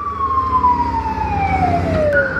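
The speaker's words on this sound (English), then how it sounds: "Ambulance." An ambulance siren wails loud and close in summer traffic, its tone sweeping steadily downward over a rumbling engine bed.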